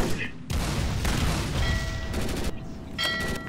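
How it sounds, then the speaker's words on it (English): Rapid bursts of Gatling gun fire in the shooter game MicroVolts, dense loud rattling volleys that start and stop in several short stretches. "Gatling gun"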